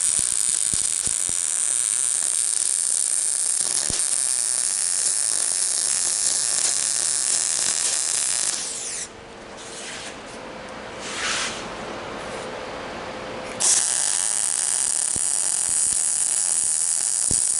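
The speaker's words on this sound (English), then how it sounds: "I'm going to weld that nut to the piece here." Welding a nut onto a metal fishing rod holder, steady crackling arc buzz running loud and close for most of the span, dropping out briefly in the middle before resuming.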